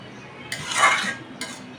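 Metal utensil stirring fish in a wok-style pan (kadai) during home cooking, heard as a short scraping, clinking pass building to a louder sweep then fading, with a brief second scrape near the end.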